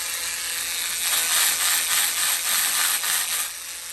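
A PARRIOR electric spin scrubber whirs and rattles close up at steady volume, a dense buzzing mechanical chatter that swells slightly midway and eases near the end.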